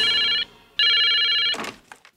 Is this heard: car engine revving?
no